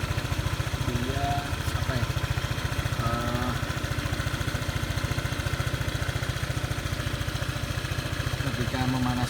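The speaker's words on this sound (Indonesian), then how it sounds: "ketika memanaskan mesinnya tuh si motornya, si bannya tuh berputar seperti ini" A used Honda motorcycle idles while its engine warms up, a steady close putter of rapid even pulses running throughout with faint background sounds.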